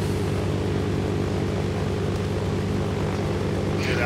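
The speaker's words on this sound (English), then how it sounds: "I found an airplane, I'm taking off." A biplane's propeller engine in the video game Wasteland drones steadily and loudly throughout, a dense continuous hum with no voices over it.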